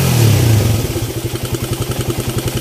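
A Raider 150 motorcycle engine fitted with a 30mm Koso open carburetor and straight exhaust, running loud and close. It falls from a brief rev into a steady, rapid, even idle thump.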